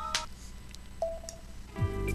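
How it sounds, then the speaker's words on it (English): A phone rings with short electronic tone bursts, a brief chirp at the start and a louder ringtone swelling near the end, over quieter beeps from a New Super Mario Bros. Wii co-op game. "Oh, your phone is ringing."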